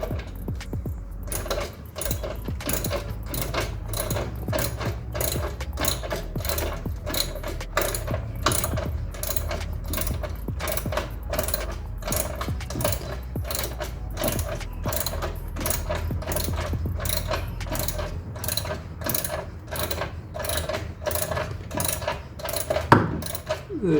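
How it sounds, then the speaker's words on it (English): Rapid rhythmic mechanical clicking of a jack being ratcheted up under a 1971 BMW E3 2800 continues steadily throughout, close and moderately loud. "there's a jack at the bottom, so that I can jack it up a little more effectively"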